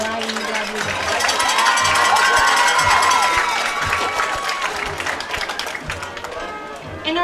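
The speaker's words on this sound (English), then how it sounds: "Please give a round of applause for homecoming court member Alai Rodriguez." A crowd cheers and claps for a homecoming court member being presented. The broad, continuous roar swells near the start, then slowly thins, with scattered shouts and claps running throughout.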